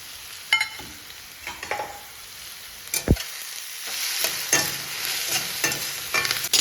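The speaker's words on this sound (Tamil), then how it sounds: "வெங்காயம் நல்லா வதங்கிருச்சு இந்த டைமில் வந்து பச்சை மிளகா கருவேப்பிலை இது மட்டும் சேர்த்திக்கலாம்" Onions, green chilies and curry leaves sauté in a pan for a mushroom gravy, with a steady close sizzle broken by repeated scraping stir strokes and no voices.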